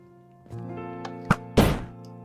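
A human cannon fires in Minecraft: a low mechanical hum, a sharp thunk, then a loud burst of blast noise that fades quickly, all close and without talk.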